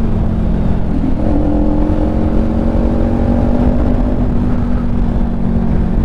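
A fully modified Kawasaki Ninja 400 exhaust running close and loud, a steady low engine drone with faint crackling pops layered over it, and no talk.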